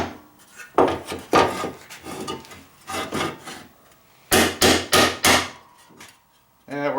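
Hammering on a makeshift anvil while fixing up a free junk lawnmower: repeated loud metallic strikes in uneven bursts, first a scattered series, then a tight run of four heavy blows, with a ringing tap at the end.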